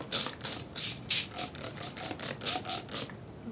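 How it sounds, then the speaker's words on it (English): About eight quick sprays from a handheld spray bottle misting water onto a marker-colored paper coffee filter, sharp hissing bursts in a steady rhythm, close and clear with no talk. "we're going to spray this filter I've colored."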